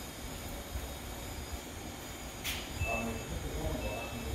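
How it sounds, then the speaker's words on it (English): Two short, faint electronic beeps from the anti-theft PIN system of a 2022 Cadillac Escalade sound a moment apart inside the cabin, over a steady low rumble. "I got two beeps. My PIN code is received."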